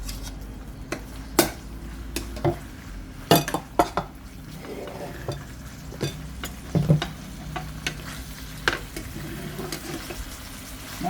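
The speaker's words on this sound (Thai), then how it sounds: "ผัดหมูให้สุกๆก่อนแห้งๆ" Minced pork stir-fried in a pan for Thai roasted chili paste with pork, with intermittent scraping and stirring clinks of utensil on pan over a low sizzle, fairly close, no talking.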